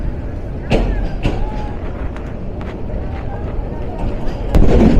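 The Titas Commuter train rolls toward Tongi Junction, heard from the roof as a constant rumbling roar with sharp clanks and bangs scattered through it.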